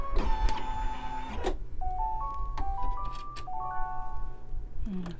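An embroidery machine finishes stitching a quilted in-the-hoop baby bib, with a mechanical buzz and then whirring, stepping motor tones as the carriage moves, close and clear with no talk.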